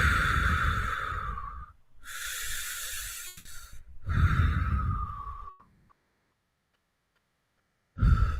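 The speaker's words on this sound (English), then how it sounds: "So I'd like you to take a few deep breaths." Slow, deep breaths drawn in and let out, three long audible inhale-exhale cycles close to the microphone, followed by a silent pause and the start of another breath.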